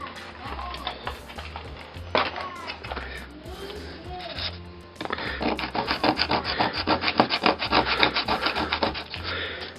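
Soft brown pastel is rubbed and scraped for model railway weathering, starting with scattered scratchy strokes and then settling into a rapid, steady rasping rhythm close by.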